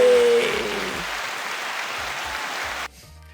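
A studio audience applauding loudly, the clapping holding at an even level for a few seconds and then cutting off abruptly into near silence.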